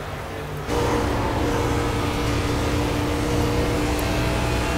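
Onboard engine of the number 2 race car lapping Auto Club Speedway, a loud, steady drone that swells abruptly and then holds at a sustained high pitch close to the cockpit.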